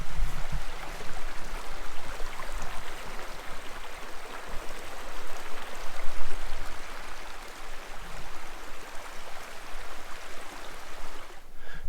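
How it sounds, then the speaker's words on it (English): A creek at a campsite in Jay Cooke State Park, Minnesota, flows with a steady, loud rushing and burbling of water, continuous and close, with no talking. "So here's the creek."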